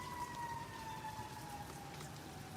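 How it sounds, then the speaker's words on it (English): A warning siren wails steadily and continuously at low volume, with a gently falling pitch. It sits under a broad rain-like background hiss throughout, with no other sounds standing out. "You got the sirens going off."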